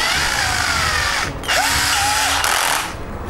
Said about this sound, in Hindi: ये सेकंड पावर मोड में ये ड्रिल वगैरह करने के बहुत काम आता है।